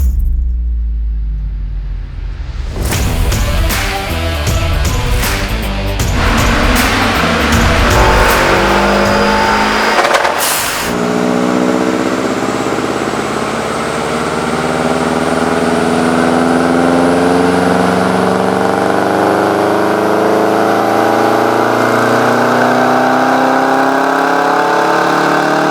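A 300 hp Subaru Impreza GT Turbo GT300 strapped to a dynamometer, its engine revving hard in rising and falling bursts, then holding a long, loud sustained pull with a steadily climbing tone, close and with no talking.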